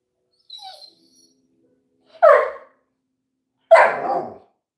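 A puppy gives two sharp, close barks a second or so apart in an otherwise quiet room, preceded by a faint high whine.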